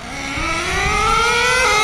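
High-pitched nitro engine of an HPI Savage X 4.6 RC truck running rich, revving steadily upward with a rising whine that grows louder, buzzy and continuous throughout.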